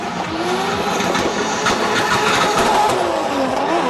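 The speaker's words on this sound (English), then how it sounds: "That's how a drift car should sound. RB26." Drift car with an RB26 engine revving hard at a drift event, a loud continuous engine roar with rising and falling revs and crowd-level background noise.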